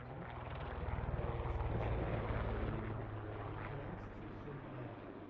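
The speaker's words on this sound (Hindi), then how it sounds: "ये तो हेलीकॉप्टर आ गया।" A helicopter flies over the Axalp Swiss Air Force live-firing show in the mountains, a faint, steady rotor drone with a soft pulsing beat swelling and fading slightly.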